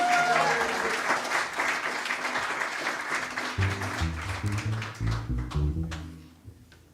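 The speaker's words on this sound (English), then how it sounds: "So give him a round of applause" An audience claps for a bass player at a country music show, a dense burst of applause that thins toward the end as instruments begin playing underneath.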